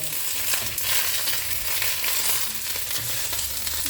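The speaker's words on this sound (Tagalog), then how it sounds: "fry cabbage at saka togo" Cabbage and bean sprouts sizzle and fry in a pan, a continuous close crackling hiss with faint stirring and no talk.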